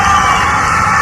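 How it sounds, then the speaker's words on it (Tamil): A packed hall erupts in a dense roar of applause, cheering and shouts, loud and continuous throughout. "ஒரு அரங்கம் நிறைந்த மாபெரும் கைத்தட்டலுக்கு நடுவே"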